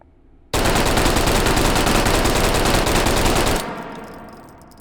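A World War II automatic gun in the H3VR virtual reality shooter empties a full magazine in one unbroken, loud, rapid burst of about three seconds, then the sound rings and fades away.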